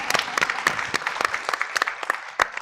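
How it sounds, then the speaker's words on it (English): Moderate audience applause for a speaker at a leadership summit, a loose patter of individual claps with a few sharper nearby claps standing out. "Let's clap for him."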